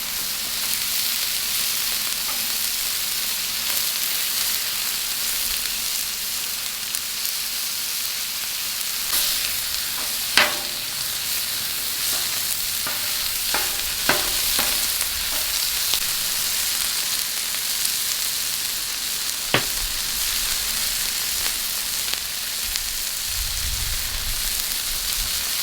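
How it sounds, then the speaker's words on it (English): Ground beef and onions frying on a Blackstone griddle: a steady, loud, close sizzle that runs unbroken throughout, with occasional clicks and scrapes of a spatula on the metal surface. "we're also gonna cook up some extra ground beef just to meal prep a little bit"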